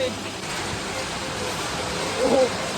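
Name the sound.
heavy rain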